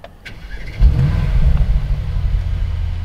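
A 2021 Mercedes-AMG E63 S fires up with a short starter click and a deep, close rumble that surges loudly, then settles into a steady, throaty idle with no talking.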